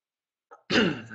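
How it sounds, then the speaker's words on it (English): One short, rough cough bursts out after a tiny preceding sound, close and fairly loud. "I have a cough"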